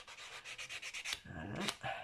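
Nail file rubbed over dry gel polish on a fingernail, about ten quick, soft rasping strokes in a regular rhythm, close and fairly quiet, then a few slower scrapes.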